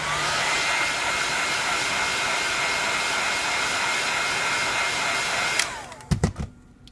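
Heat gun blowing on a Samsung Galaxy S5 to soften its adhesive: a steady airy whir that runs continuously, then cuts off near the end, followed by a few sharp handling clicks.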